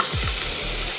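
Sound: vegetables frying in a pan for sambar

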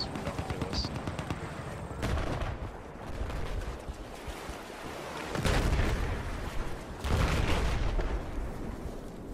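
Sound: cannon fire in a naval combat video game

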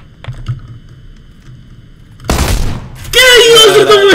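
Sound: gunfire in a video game shootout

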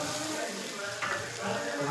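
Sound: spices frying in oil for paneer gravy

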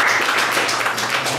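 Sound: applause from lunch audience

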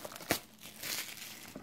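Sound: ripping open a 2015 Strata football card box

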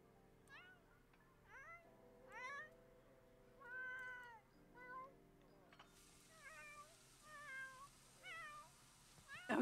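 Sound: cat meowing in the video game The Sims 4

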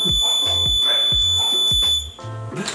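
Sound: smoke alarm going off (false alarm)

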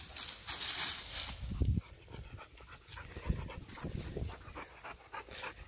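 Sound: Staffordshire bully dog panting after fetching a stick

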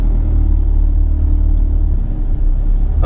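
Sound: VW Tiguan car driving forward during park assist

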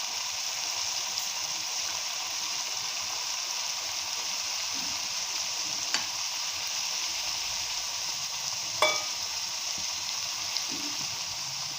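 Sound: spice paste frying and being stirred in a pan

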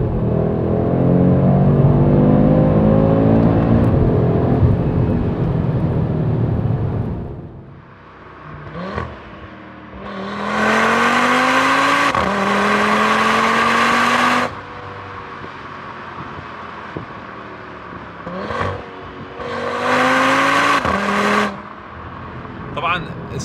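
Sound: Audi RS3 hatchback engine accelerating

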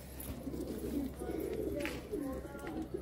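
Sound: Bhure Bajre pigeons cooing

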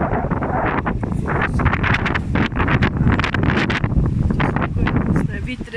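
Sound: wind at a castle

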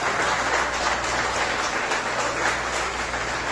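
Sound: applause

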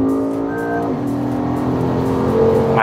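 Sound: Toyota GR sports car naturally aspirated V8 engine

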